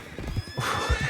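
A spooked horse in Red Dead Redemption 2 gives one loud, close whinny over a few clip-clopping hoof steps, with no talk.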